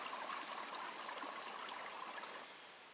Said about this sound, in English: A babbling stream.